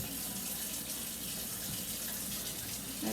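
Warm water running steadily from a kitchen tap into a sink or cup while making dinner rolls, a constant close hiss and splash with no talking.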